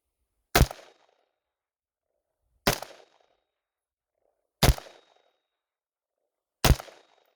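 Four sharp, loud gunshots from a Desert Tech MDRX rifle fired at an outdoor range, evenly spaced about two seconds apart with short decays and quiet between them.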